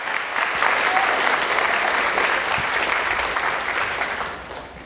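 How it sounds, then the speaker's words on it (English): Sustained audience applause at a girls-in-STEM conference keynote, a dense, steady wash of many hands clapping that holds loud for several seconds and then begins to taper off near the end. "Big round of applause."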